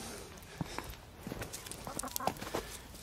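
Chickens cluck in a series of short, irregular calls at close range, with light background rustle and no talking.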